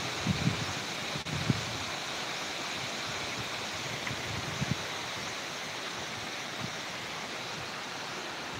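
Typhoon gusts blow hard across a garden of wing bean vines, making a constant roaring hiss of wind and rustling foliage with occasional low buffeting thuds, heard without any talking.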